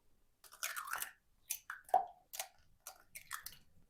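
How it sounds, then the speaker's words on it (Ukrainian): Eggs cracked one by one into a bowl in a home kitchen, a few short crisp cracks and wet plops spaced across a few seconds, close and fairly quiet with no talking. "Беру тепер іншу миску і вбиваю до неї яйця"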